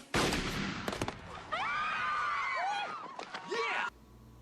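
Gunshots fired at a 1,000-page SAT textbook target, a quick volley of sharp loud cracks near the start, followed by whooping and shouting voices that continue to the end.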